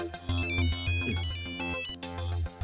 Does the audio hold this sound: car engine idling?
no